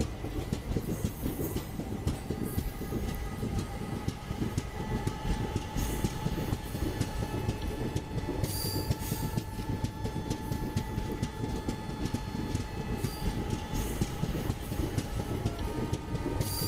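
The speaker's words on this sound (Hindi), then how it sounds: "जो एकदम साइड से ट्रेन जाती है एकदम सामने वाली या साइड वाली ट्रैक से" A train passes close by on the adjacent track as the Kaveri Express runs between Mysuru and Chennai, with a loud steady rumble of wheels, rapid rhythmic clatter and faint squealing tones carrying on without a break.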